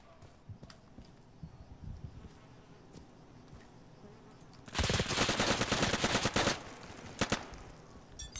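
Gunfire in the tactical shooter Insurgency: after quieter stretches with faint scattered pops, a loud burst of rapid automatic fire erupts midway, followed by a few sharp separate shots near the end.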